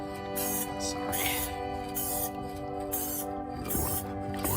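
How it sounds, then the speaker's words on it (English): Several short, hissing blasts of spray paint, aimed at a smooth Claybord panel from about ten inches away, come close and fairly loud and are separated by brief pauses. "I'm probably spraying from about a 10-inch distance or so."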